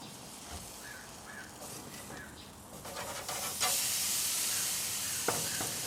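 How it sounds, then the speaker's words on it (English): Alligator crab-crusted burgers, just taken off a hot plank, searing on a grill: a soft hiss that grows to a steady loud sizzle, with a few light clinks and scrapes and no talking. "You can hear that. It's searing pretty nicely."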